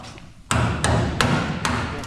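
A hand chisel is hammered to pop welds loose on car sheetmetal during a 1967 Shelby Mustang GT500 restoration. Four sharp, evenly spaced metallic strikes ring out close up over a low background rumble.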